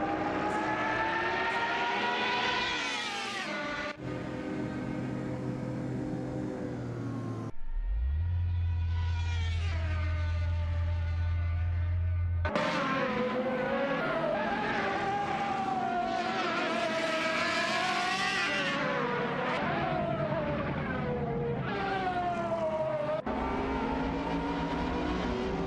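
Racing cars battle through a corner in a simulated AI race, with loud continuous engine whines shifting pitch as they brake, downshift and accelerate, heard alone throughout.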